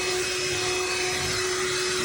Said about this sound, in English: The reason why I bought this vacuum cleaner was to get this done here at the house.